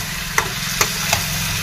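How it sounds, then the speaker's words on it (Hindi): Fresh chicken frying with masala in a pan, a constant low sizzle punctuated by three distinct spoon or spatula knocks spaced evenly apart, heard up close without speech. "अब इसको बढ़िया से हम लोग मसाला के साथ में ही चिकन को भी फ्राई करेंगे"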